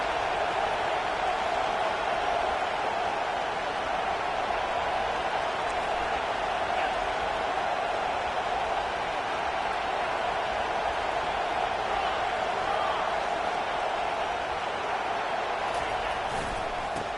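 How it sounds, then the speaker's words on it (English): Steady stadium crowd roar from a college football video game, with Michigan involved, a dense continuous wash of voices holding loud and even on a third-down defensive stand. "Decibels rising as the crowd gets behind this defense on third down."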